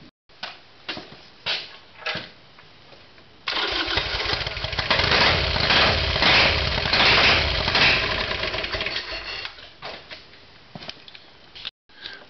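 A Harley-Davidson Sportster with a freshly cleaned carburetor cranks in short bursts, then fires into a loud, close, lumpy run for several seconds before dropping back to intermittent sputters and stopping.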